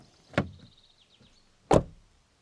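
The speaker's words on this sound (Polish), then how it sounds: "posłuchamy, czy drzwi się zamykają z należytą kulturą" Two solid thuds from a Jetour T2 SUV's car door swinging shut, each a sharp, fairly close impact about a second and a half apart, with quiet in between.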